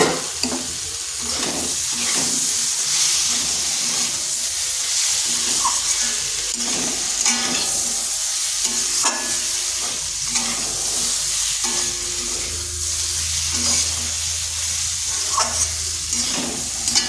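Egg and flat beans sizzle and fry in a pan, with a steady hiss broken by repeated scrapes and clacks of a spatula stirring the mixture, loud and close with no talking.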